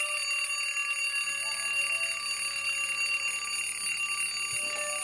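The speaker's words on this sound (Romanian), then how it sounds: "dar ceasul deșteptător nu-l iartă" A bedside alarm clock rings continuously in the morning, a loud, steady metallic bell that keeps going without pause for the whole stretch, close and alone with no voices.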